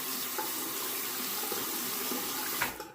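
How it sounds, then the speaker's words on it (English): Tap water runs steadily into a sink while a Merkur Progress safety razor is rinsed, a continuous close hiss that cuts off abruptly near the end. "I'm going to rinse, but I probably don't need to cut out the rinsing."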